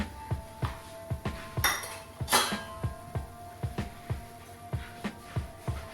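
Spoon scraping and clinking against a pan while masala for home-style dal bukhara (maa ki dal) is stirred, with amchur and coarse coriander powder. Regular, close metallic taps, about two per second, plus a few brighter scrapes, with no talking.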